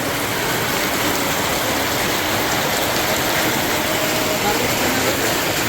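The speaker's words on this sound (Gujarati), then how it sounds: "તમને બતાવી દો વરસાદ કેવો પડી રહ્યો છે, જોઈ શકો છો" Dense, steady roar of heavy rain pouring down without a break, loud and constant throughout.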